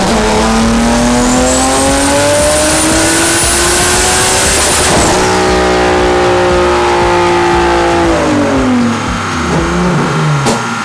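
Tuned Nissan 370Z V6 engine on a dyno pull, loud and close, climbing steadily in pitch for about five seconds, shifting up, then winding higher again before easing off near the end, with no talk over it.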